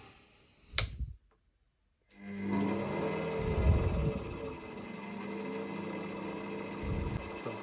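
A CDI ignition test stand spinning a magneto rotor starts up after a short click and silence, then runs with a steady mechanical hum and whine.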